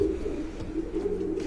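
A champion marathon racing pigeon coos softly inside a pigeon loft, a low repeated throaty burble, close but quiet, with no talking.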